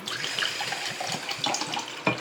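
Distilled water pouring from a glass kombucha bottle, a close, continuous splashing gurgle with a brief louder slosh near the end.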